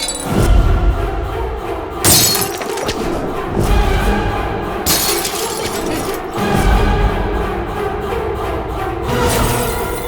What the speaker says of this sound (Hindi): कांच की बोतलों का यही तो प्रॉब्लम है, टूट जाती हैं।